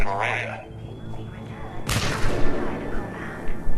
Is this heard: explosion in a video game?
yes